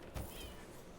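A cat meows briefly in a video game, one short near call followed by faint background game sound.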